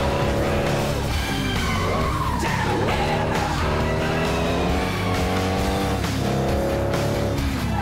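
A race car in the FlatOut 2 video game drives hard, its engine droning loudly throughout with shifting revs and repeated tire squeals and skids.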